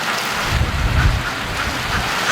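Wind buffeting hard against the microphone in low, rumbling gusts, with a steady rushing roar throughout and no voices.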